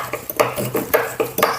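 A whisk clinks and scrapes rapidly against a bowl while mixing, giving quick irregular metallic taps close by, with no talking.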